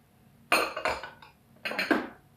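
Chopped cucumbers are tipped into a bowl for a Kyiv-style salad, giving two short bursts of clinking and scraping against the dish with a brief pause between them, and no talking.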